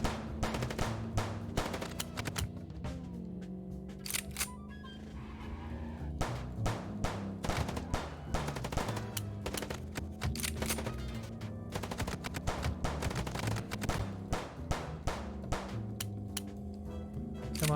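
Rapid bursts of gunfire in the video game Chicken Police, dense machine-gun fusillades rattling continuously over a car chase with skidding tires and engine noise, loud and sustained throughout.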